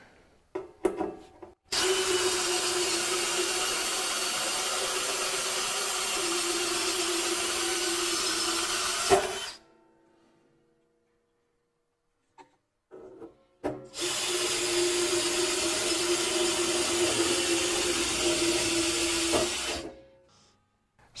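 Hand drill boring holes in a metal bomber seat makes two long, steady whining grinds, each about seven seconds, separated by a quiet pause with small clicks, close and alone.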